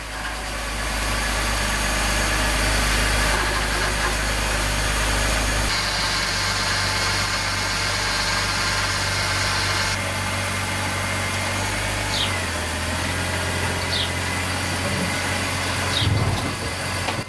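A BMW E46 330ci engine idles steadily close by, with a constant mechanical hum that shifts in tone partway through as the air pump's whine drops away, no talking.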